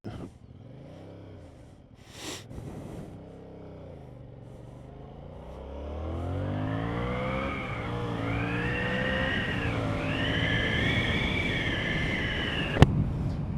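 A Yamaha MT-07 motorcycle accelerates hard on a wet road, its engine note climbing through several rising sweeps and gear changes over a steady wind rush, louder in the second half.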